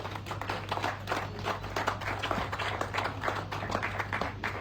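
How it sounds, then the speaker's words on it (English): Applause from a graduation-ceremony audience, a steady, moderately distant patter of many hands clapping for a few seconds with no talk over it. "Please, another round of applause for Our Excellency"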